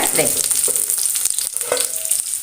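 Curry leaves hitting hot oil while cooking a vegetable curry, a loud close hiss and spatter with crackling bursts and a few clinks of a spoon against the pan.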